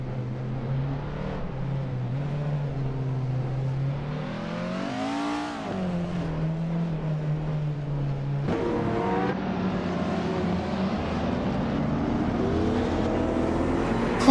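Race cars in a video game drone steadily with a close, continuous engine whine that sweeps up in pitch midway, drops back, then jumps after a gear change and keeps building toward the end.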